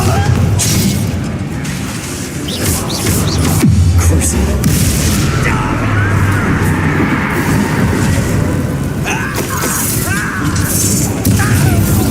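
Spell blasts and explosions boom and crash repeatedly in the Hogwarts Legacy video game, a dense, loud, continuous barrage with voices shouting over it.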